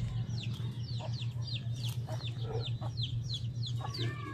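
Several chickens clucking near a house in Dumaguete, with soft repeated calls and short chirps over a steady low hum, no talking.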